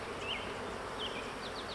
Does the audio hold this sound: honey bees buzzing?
yes